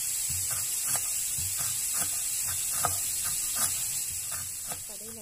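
Steady hissing sizzle of pork belly frying in a pan, with soft scraping and clinking pulses repeating throughout.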